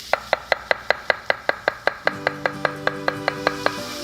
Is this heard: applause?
no